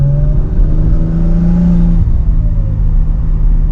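A turbocharged RB30 engine in an R31 Skyline, fitted with an HKS mushroom filter intake, revs loudly and close up: a steady droning roar that holds a rising tone, then eases back slightly and keeps running, with no voices.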